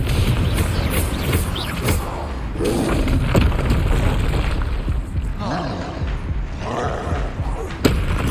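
Explosive spells hit a troll in the Hogwarts Legacy video game, heard as repeated heavy booms and thuds within a dense, continuous game soundtrack.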